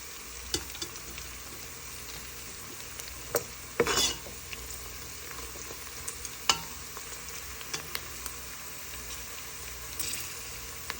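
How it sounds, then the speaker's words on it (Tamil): Fennel and mustard seeds frying in a pan while being stirred, a steady soft sizzle with scattered scraping clinks and light pops, close and moderately quiet, no talk. "ஒரு 2-3 மினிட்ஸ் கிளறி போட்டு"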